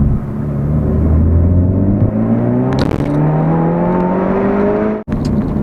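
A Renault Megane RS300 Trophy hot hatch accelerates hard, its engine climbing steeply through the revs, then a brief gap at a gear change before it pulls again, loud and close, followed by another sharp break near the end.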